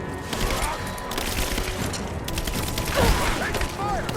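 Sustained gunfire during an attack in a video game, dense overlapping bursts and crackling shots at close range with a louder impact near the end, under shouting voices.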